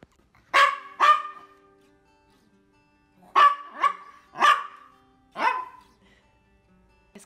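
A dog barking indoors at a grooming session, six sharp close barks in two separated groups, two quick ones then four more after a pause, with quiet between.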